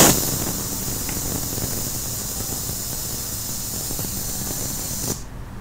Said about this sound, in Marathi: झाकण लावून 3 मध्यम आचेवर शिट्या काढून घ्यायच्या